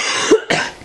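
Two quick, loud, close coughs from a person, one right after the other, with nothing else heard.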